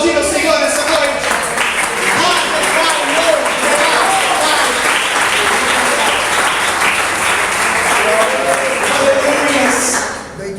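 A church congregation applauds during an evening worship service, sustained loud clapping from a large crowd filling the room, easing off only at the very end.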